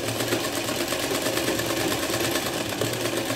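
A sewing machine stitches a seam along an opened fold, giving a close, steady, unbroken mechanical whirr for the whole stretch.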